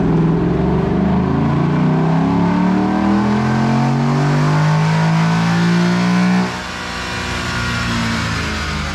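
A 2022 Ford F150 Gen 4 Coyote V8 revving hard on a dyno, a loud rising engine pull that climbs steadily for several seconds, then drops off sharply and settles to a lower idle.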